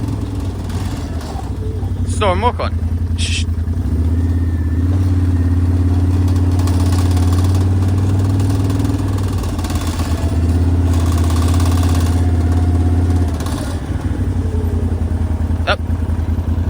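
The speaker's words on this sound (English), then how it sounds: "it looks like there's some traffic coming down the road as well" A vehicle engine approaches and idles along a rural farm road where lambs are being moved to a field, a steady mid-pitched rumble rising and falling for most of the stretch, with a person briefly calling out to a dog.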